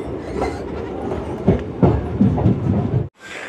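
A Patna–Gaya passenger train running, carriage rumble loud and steady with rhythmic wheel clatter and thumps up close, then a brief drop to near silence right at the end.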